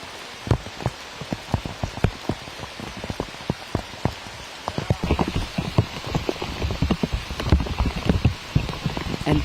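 Heavy rain falls steadily on a disc golf course, a dense patter of close, irregular drops and splashes that grows busier toward the end.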